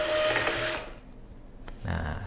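A Kassen DT640 label printer in automatic peeler mode prints a label with a close mechanical whirring feed that stops, leaving a short lull and a faint click. A second whir follows, with no voices.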